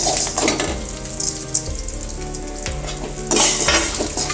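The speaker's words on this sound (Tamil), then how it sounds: "முதல்ல வரமிளகா போட்டு வறுத்துக்கணும்." Dried red chillies roast in a hot pan for vatha kuzhambu, sizzling continuously while a utensil scrapes and clinks against the metal in several stirring strokes, close and loud with no voices.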